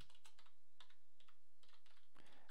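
Typing on a computer keyboard while entering a word into a Blender script: a short run of crisp, close key clicks in uneven rhythm, ending in a slightly louder keystroke, with no talk.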